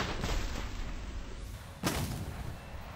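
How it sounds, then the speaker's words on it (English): Missile launch from an F-14B in War Thunder, a rushing roar of engine and airflow with a sharp thumping burst near the two-second mark that trails off into the steady jet noise. "Go, missile"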